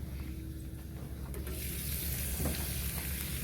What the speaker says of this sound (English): I'm going to let them simmer real nice